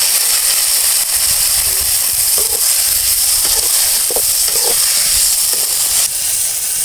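Garlic, dried red chillies, green chillies and tomato sautéing with salt in a pan, a steady sizzling hiss with faint scraping and small pops throughout, no voices.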